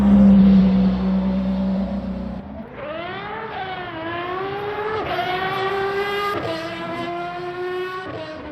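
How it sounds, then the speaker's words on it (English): A loud V12 race car engine in a video game drones steadily, then revs up through several rising gear pulls with sharp shifts between them, close and continuous. "Let's enjoy the lovely sweet sounds of the V12 together."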